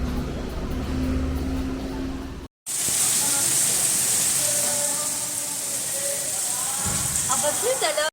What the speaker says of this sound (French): Il pleut tellement que les gouttières elles n'arrivent même pas à absorber quoi